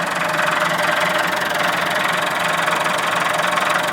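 A Massey Ferguson 675 tractor fitted with an MF80 loader idles with a steady, even diesel rumble and a light knocking texture that holds constant from start to finish, with no voices.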